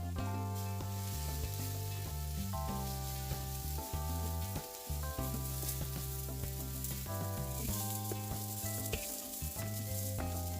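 Boiled quinoa sizzling in a hot pan for quinoa upma, with steady frying crackle and stirring under a loud layer of background music, no talking.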